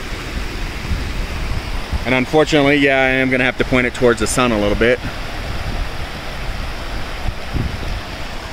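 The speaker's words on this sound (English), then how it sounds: "So not only do we have this waterfall here" Waterfall beside a cave pours as a steady, broadband rushing roar throughout, with someone speaking over it for a few seconds in the middle.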